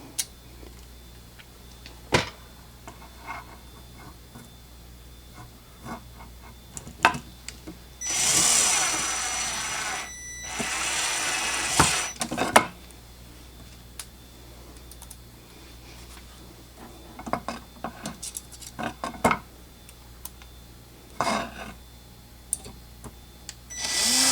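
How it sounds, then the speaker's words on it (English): A power drill drives two screws into a drawer rail on a Harbor Freight Windsor Design workbench, giving two short whirring bursts amid scattered clicks and handling knocks in a quiet workshop. "I'm just going to put in 2 screws into the existing hole."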